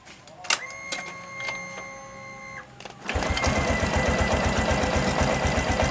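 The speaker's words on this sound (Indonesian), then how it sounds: "Coba dulu dihidupkan keretanya, bos." A Honda Supra X 125 PGM-FI motorbike, which has a fault traced to its ignition key switch, starts after a few electronic beeps and then runs at a steady, pulsing idle, close and fairly loud, with no one talking.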